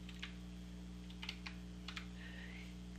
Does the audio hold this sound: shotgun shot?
no